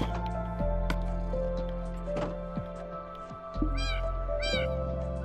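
Cats in the Minecraft video game meow repeatedly, several short close mews spread over a few seconds above a steady droning game background, with no talk.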